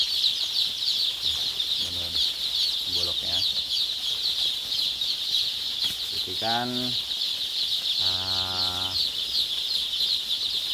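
Several short clucks and calls from newly arrived day-old layer chicks in scattered bursts over a constant high-pitched hum, with a person talking in between.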